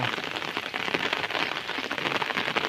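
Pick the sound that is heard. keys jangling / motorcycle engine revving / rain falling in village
rain falling in village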